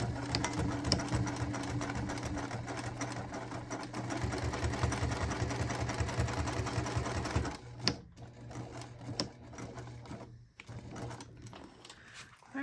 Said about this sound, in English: I'm just going to top stitch straight across